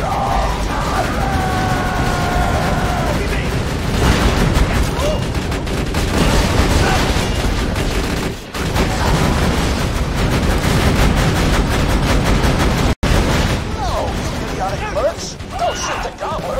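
Dense, loud gunfire fills a Borderlands 2 firefight in the Headhunter DLC hunt for the Wattle Gobbler, with sustained rapid shots and booming impacts running nearly without pause, and voices mixed into the chaos.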